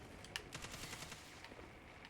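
Rapid shotgun gunfire in a Destiny 2 firefight, a quiet flurry of sharp, closely spaced bursts over game background noise.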